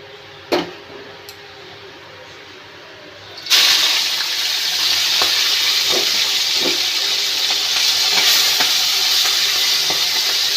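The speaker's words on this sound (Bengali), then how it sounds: "তেল গরম হয়ে গেছে, এবার আমি মাছগুলো দিয়ে দেব" Prawns drop into hot oil seasoned with ginger and garlic paste and burst into a loud, steady sizzle after a few seconds of quiet, with occasional clinks along the way.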